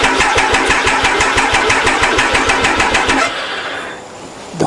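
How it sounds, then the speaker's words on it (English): A Triumph Tiger motorcycle abandoned for ten years cranks on its electric starter with a fast, steady rhythmic chug for about three seconds. It then catches and settles into a rougher running engine note, close and loud with no talk. "Clutch in, ignition on, press the start button."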